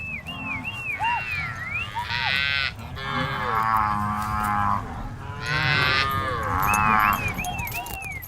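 Cattle mooing repeatedly across open Amazon grazing plains, several long drawn-out calls rising and falling, some overlapping, with birdsong chirping between them.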